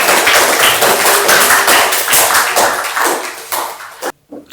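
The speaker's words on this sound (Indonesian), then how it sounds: "Aplaus buat kelompok 2." Sustained applause from a classroom audience for a student group after their presentation, dense and loud throughout before cutting off abruptly near the end.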